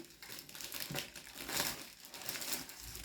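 A comic book slides back into its plastic sleeve, the thin plastic crinkling and rustling softly and close by in a few bursts, with no other sounds around it.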